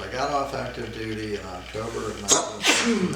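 A single sharp sneeze bursts out partway through a calm conversation between two people, close to the microphone, followed shortly by a second short sneeze-like burst.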